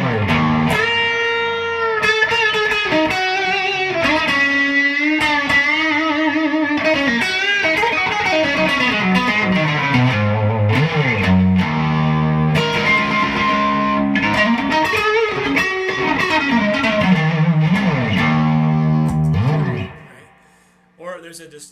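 Electric guitar through a King of Tone overdrive pedal playing a melodic phrase with sustained, slightly gritty notes and bends, alone, ending with a brief fade and a last touch.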